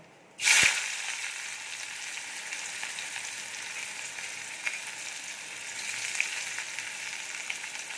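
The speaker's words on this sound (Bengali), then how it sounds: "এবারে কুচিয়ে রাখা পেঁয়াজগুলো দিয়ে দেব।" Chopped onions hit hot oil flavored with nigella seeds, starting with a sharp burst and then settling into a steady, loud sizzle that carries on without talk.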